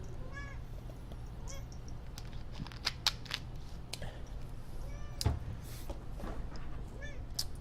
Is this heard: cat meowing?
yes